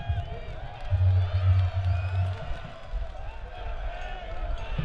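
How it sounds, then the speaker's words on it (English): Large crowd buzzing in the stands at Laney in Oakland during an Oakland Roots SC versus San Diego Loyal SC soccer match, a steady roar of voices with scattered whoops and low rumbling thumps underneath. "The crowd is already buzzing."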